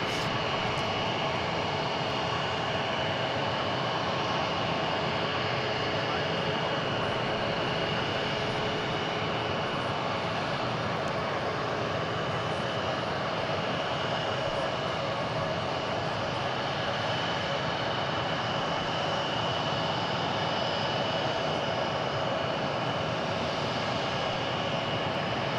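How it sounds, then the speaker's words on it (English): Jet airliners depart on the west side of DFW International Airport at night, a loud continuous roar of engines that holds steady at a distance and fills the whole stretch. "We are rocking the departures here on the west side of DFW International Airport."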